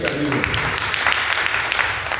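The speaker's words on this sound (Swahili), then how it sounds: "Pige makofi katika hili." A church congregation at an Easter vigil service claps together in a dense, continuous patter that blends with voices.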